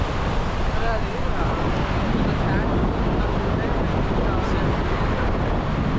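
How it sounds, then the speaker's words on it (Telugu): Loud, steady roar of surf crashing on RK Beach, Visakhapatnam, with heavy wind buffeting the microphone throughout and faint voices underneath. "అలలు అయితే గట్టిగా వస్తున్నాయి"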